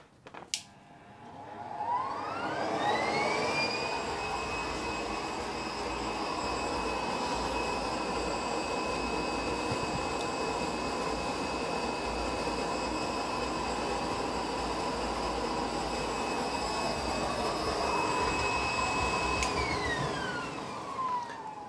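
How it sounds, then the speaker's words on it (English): A 1200L cone tank compost tea brewer runs with its air blower, giving a loud, steady whine and roar that rises in pitch as it spins up, holds a constant tone, then winds down. "So I'll turn this brewer on now,"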